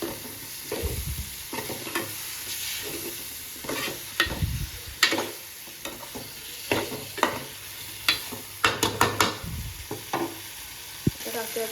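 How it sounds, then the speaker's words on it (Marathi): Washed potatoes and pakhat stirred into sizzling masala in a pan, with a steady fry hiss broken by repeated scraping and clattering strokes of the spoon. "आणि त्यात आता वॉश करून घेतलेत हे बटाटा आणि पाकळ ते टाकते"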